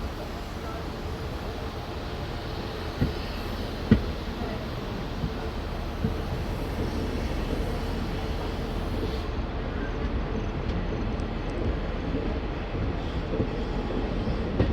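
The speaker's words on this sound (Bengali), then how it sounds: "আমাদের ডেমু প্যাসেঞ্জার ধোঁয়া উড়িয়ে ধীরে ধীরে দুমকা স্টেশন থেকে বেরিয়ে যাচ্ছে" Continuous low rumble of a DEMU passenger train slowly leaving Dumka station before dawn, with a few faint clanks over a steady droning background.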